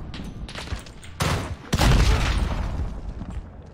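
Gunfire from Call of Duty Modern Warfare 2019 in a beta match, a burst of sharp shots followed by heavy booming blasts that ring out, loud and close, with quieter scattered pops around them.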